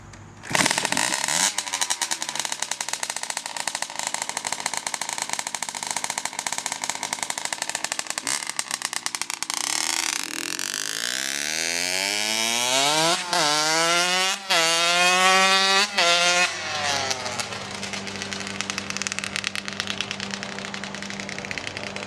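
A motorcycle starts and idles loudly close by, then revs through rising and falling gears as it pulls away and rides past, the engine note staying strong and steady before settling into a lower drone.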